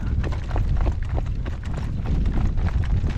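Horse hooves clip-clop steadily and briskly at close range, a dense rhythmic run of hoof strikes over low rumbling movement noise, with no talking.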